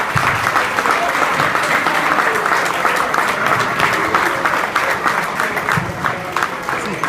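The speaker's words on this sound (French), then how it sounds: "Applaudissez-les vigoureusement." A crowd gathered at a football club spaghetti dinner applauds the club committee vigorously, a loud, dense, sustained clapping that holds steady throughout.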